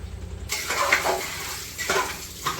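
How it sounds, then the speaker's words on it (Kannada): Ginger-garlic paste sizzles in a hot pan while being stirred for mutton biryani, a close, steady frying hiss with scraping strokes and a few louder stirring surges. "ಶುಂಠಿ ಬೆಳ್ಳುಳ್ಳಿ ಪೇಸ್ಟ್ ಹಾಕ್ತಾ ಇದೀವಿ ಈಗ"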